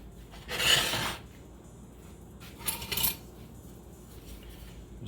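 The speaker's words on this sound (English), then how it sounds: "Just stir this up and make sure that everything's dissolved." A utensil scrapes and clinks in a pot of pickling liquid with onions and garlic being stirred on the stove, two short bursts of metallic rasping with quiet pauses between.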